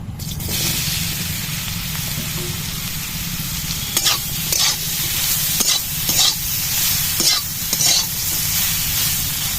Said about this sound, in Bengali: ওই তেলেই সয়াবিনটা ভেজে নেব।